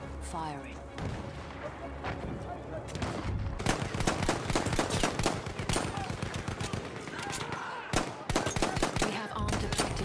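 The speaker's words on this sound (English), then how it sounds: "Wait for the enemy artillery barrage to stop firing." Enemy artillery barrage in the Battlefield 1 open beta: dense, loud volleys of gunfire and heavy impacts crackle almost continuously, with near bursts stacking over a rumbling battlefield backdrop.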